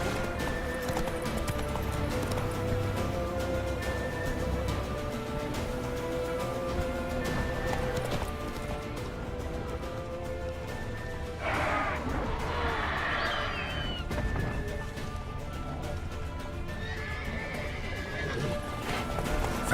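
Roach the horse from The Witcher 3 video game gallops with steady clip-clop hoofbeats and lets out several loud neighs and whinnies over continuous game ambience.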